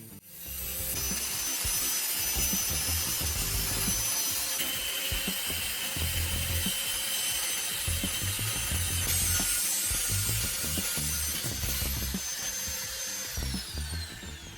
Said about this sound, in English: Use a cutting tool to slice the top of the can just above the row of holes.